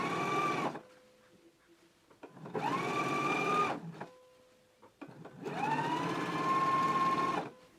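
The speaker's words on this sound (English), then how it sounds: "let's go ahead and stitch our hem in place now" A sewing machine stitches a jacket hem in three sustained runs with a steady motor whine, separated by brief quiet pauses, heard close and fairly soft.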